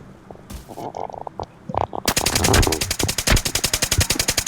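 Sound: gunshots from the video game Arena Breakout

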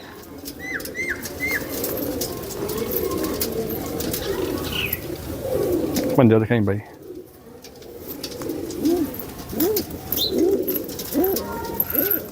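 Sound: pigeons cooing

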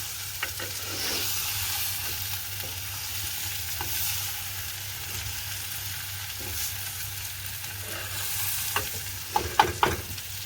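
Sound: stirring egg devil frying in a pan

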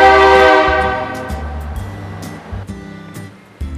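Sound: train passing on nearby tracks

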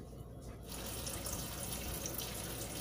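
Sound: water running from a kitchen tap

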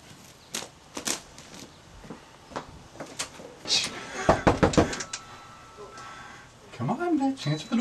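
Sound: knocking on a door

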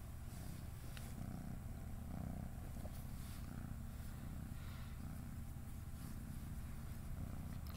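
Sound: cat purring

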